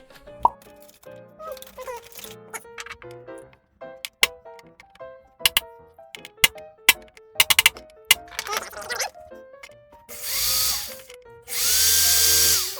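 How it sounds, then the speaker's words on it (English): Power drill boring a hole during an amplifier repair, heard as scattered clicks and taps followed by two sustained whirring bursts near the end, close and loud. "I think I got the crummy drill."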